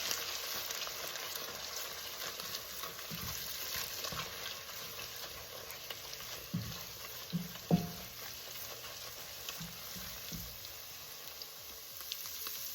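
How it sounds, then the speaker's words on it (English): Eggs are scrambled in a frying pan for a homemade breakfast pizza, producing a soft, quiet sizzle with intermittent spatula stirs and a few scrapes near the end, without any talk. "go ahead and add in your eggs and then scramble together"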